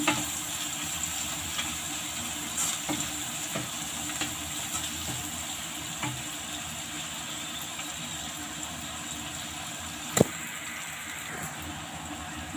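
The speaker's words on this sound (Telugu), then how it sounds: "మనం ఆనియన్స్ ఇదిగోండి జస్ట్ కొన్ని వేస్తున్నాను." Onions sizzling in a pan for restaurant-style egg fried rice, a steady soft frying hiss with occasional crackles and one sharp clink near the end, no talk.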